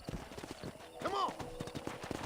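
Short burst of horse hooves clopping in Red Dead Redemption, mixed with a brief whinny and game ambience, with talk layered over it.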